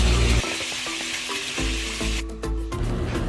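Supermarket fish frying in a pan, a loud continuous sizzle with repeated scraping and stirring strokes close by, and no voices.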